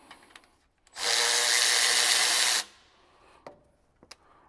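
A power tool whirs loudly and steadily for about a second and a half while removing 15 mm bracket bolts from an engine during a belt change, framed by a few faint clicks and knocks.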